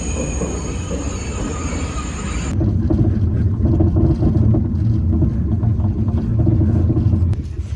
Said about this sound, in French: nous sommes dans l'Eurostar en direction de Paris